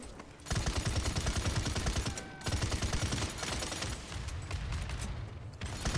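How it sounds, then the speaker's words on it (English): Rapid automatic gunfire rattles in fast bursts in the Paladins video game, with a short pause before a second long stream of shots and a few mechanical clicks. "I could shoot through his shield, I'm not too concerned."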